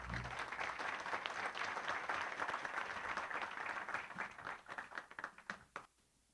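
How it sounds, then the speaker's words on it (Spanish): Audience applause at an agroecology producers' gathering, a dense sustained burst of clapping that holds steady and then thins into scattered claps before fading out, with no talk over it. "Fuerte aplauso."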